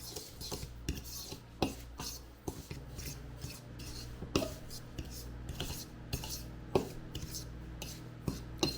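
Graham cracker crust ingredients being mixed in a bowl, with repeated scraping and clinking of a utensil against the bowl in an irregular rhythm, quiet and close.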